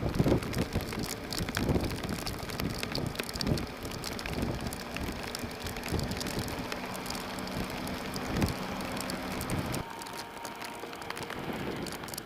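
Heavy rain pelting down during a ride on a BMW R1200GS motorcycle, a dense steady hiss of rain and wind roaring over the microphone that stays loud throughout and eases slightly near the end.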